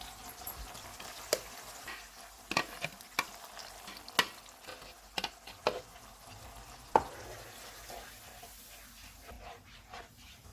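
Onion, ginger, garlic and yogurt paste with tomato puree frying in a pan, a soft sizzle punctuated by sharp spoon taps and stirring knocks, quieter toward the end.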